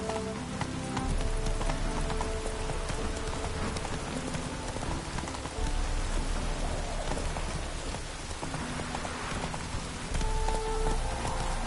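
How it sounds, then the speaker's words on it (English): A horse gallops in a PS4 video game, its hooves beating a quick, steady clip-clop that runs throughout, mixed with the hiss of falling rain. "Run, Roach."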